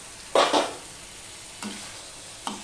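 Fried pointed gourd is tossed into a pan: a soft background sizzle with a few distinct stirring scrapes, the first strongest, then two lighter strokes spaced apart.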